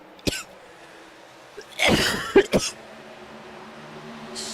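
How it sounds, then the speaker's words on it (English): Someone commentating an iRacing sim race at Iowa coughs in a short harsh burst, then again in a louder cluster of two or three close coughs, near and alone without speech. "And I'm going to start coughing again."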